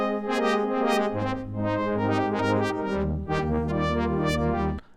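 Serum 2 wavetable synth on the DX Pros wavetable, its position swept by a Chaos Rossler LFO, plays a bright, bell-like sequence of plucked notes over a sustained bass, with shifting timbres, ending abruptly.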